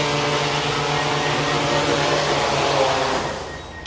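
A camera drone used for building defect inspection lands by itself, its propellers giving a steady loud whir up close that winds down at the very end.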